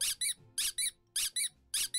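Squeaky boots in the video game Pocket Mirror, bright paired squeaks with each step in a regular walking rhythm, four step pairs, clear and alone.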